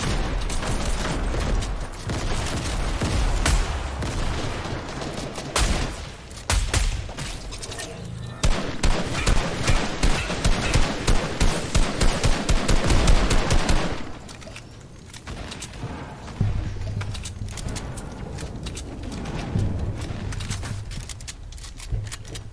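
Rapid gunfire in the video game Fortnite Battle Royale, with bursts of automatic shots and a long sustained rattling volley midway, loud and close, then quieter mechanical game sounds.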